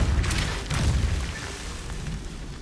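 A Depulso spell blast in Hogwarts Legacy gives a short, deep booming burst that decays over about two seconds, with no voices over it.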